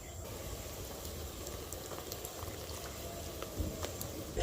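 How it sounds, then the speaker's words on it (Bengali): Sugar syrup for bundia sweets bubbles steadily in a pan on the stove, a soft continuous simmering hiss with no one talking. "চিনি শিরাটা দেখুন ফুটে উঠেছে।"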